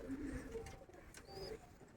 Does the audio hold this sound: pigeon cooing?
yes